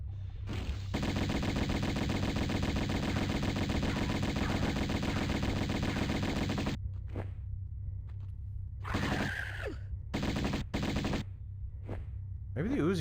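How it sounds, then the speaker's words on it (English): Uzi fire in the 1996 Tomb Raider game: a long unbroken stream of rapid shots for several seconds, then short separate bursts with gaps between them, loud and close. "Maybe the Uzis don't get it done"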